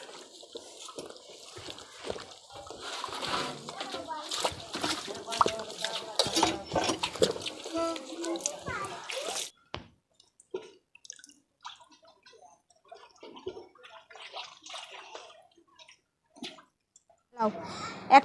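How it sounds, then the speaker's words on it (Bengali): Drumstick (moringa) greens are washed by hand in water, giving busy splashing and sloshing with trickles and drips. The sound is fairly close. It stops briefly, then continues with sparse drips and small splashes. "শাকগুলো এবারে ধুয়ে নেব, খুব পরিষ্কারভাবে ধুয়ে নিতে হবে।"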